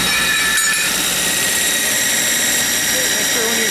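A loud, steady high-pitched whine of a power sanding machine running continuously, close by, with no breaks.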